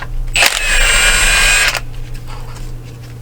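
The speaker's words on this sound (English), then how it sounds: "Now we should be able to just spin that bolt right out of there." A power tool spins a bolt out on a 1979 Chevy G20 van, giving a loud, close, high-pitched whine that runs for just over a second before cutting off, followed by quieter background noise.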